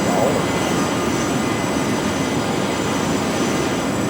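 Loud, steady roar of a Learjet 45 business jet, broadband engine noise filling the whole stretch with no break, close and continuous.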